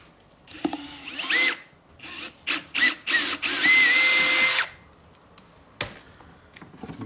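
A drill with a 1-inch wood bit bores into an HMWPE skid plate for a 2019 Can-Am Outlander Max XT, giving several short whirring bursts and then one longer, louder sustained run, close up.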